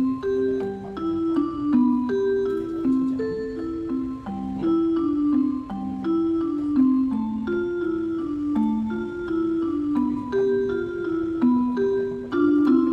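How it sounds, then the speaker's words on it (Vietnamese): Mellow struck mallet notes from a digital keyboard's vibraphone voice ring out in a steady, repeating melodic pattern, soft and even throughout, with no voices. "Đây là tiếng vibraphone."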